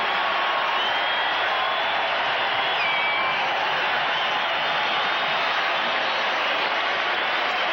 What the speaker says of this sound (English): And the crowd responds with this inside chance from Magic Johnson.